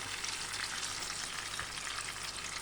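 Pulihora rice mixture is stirred and mixed by hand, giving a continuous soft, crackly scraping rustle at a steady level, with no talking.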